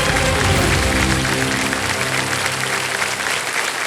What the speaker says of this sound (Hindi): तालियां बजती रहे बबीता जी के लिए।